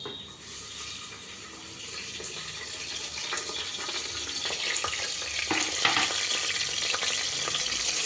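Chopped onion and curry leaves frying in oil in a pan for capsicum rice bath, a dense hissing sizzle that swells slightly over time with occasional light stirring clicks, no voices.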